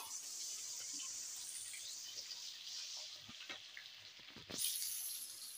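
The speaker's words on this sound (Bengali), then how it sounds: "আর প্রচুর পরিমাণে তেল উঠছে মাছ থেকে" Fish frying in a small amount of oil in a home kitchen, a quiet steady sizzle with scattered pops and a brief clatter near the end.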